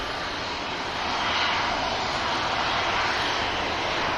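An EasyJet jet airliner climbing out from the runway at Manchester Airport, a loud, steady broadband engine roar that swells slightly midway and holds constant throughout, with no voices.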